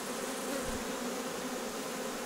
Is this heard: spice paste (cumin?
no